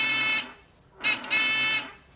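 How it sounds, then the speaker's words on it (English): A burglar alarm's electronic buzzer sounds loudly twice, a steady harsh tone cutting off, pausing for a moment, then sounding again with a brief stutter. "the buzzer works and it is alive and well"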